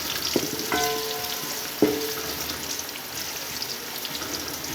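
Onions drop into hot ghee for aloo gosht, giving a continuous hiss of frying, with a few sharp clinks of a utensil against the pot near the start.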